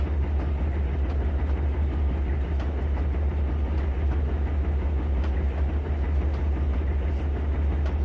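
A C30 locomotive runs through TideWater in the Trainz 2019 railway simulator, a steady loud rumble with deep low drone and faint rhythmic clicks of wheels, continuous throughout with no talking.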